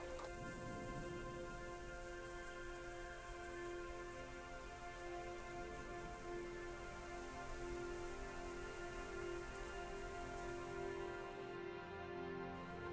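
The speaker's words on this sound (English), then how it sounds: "I love just chilling in the rain, especially when it's like towards that evening time." Steady rain falls in the video game Hindsight on an evening scene, a dense continuous hiss with a soft tonal music bed beneath it, no voices.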